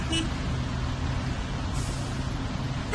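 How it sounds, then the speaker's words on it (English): Steady road traffic rumbles continuously, a dense low roar of passing cars, buses and trucks that stays even in loudness throughout, with no talk over it. "And traffic noise."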